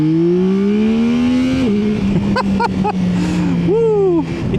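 Yamaha Tracer 9 GT motorcycle engine revving hard through the gears, rising pitch sweeps with quick shift dips and a throttle blip near the end, loud and close with faint wind noise.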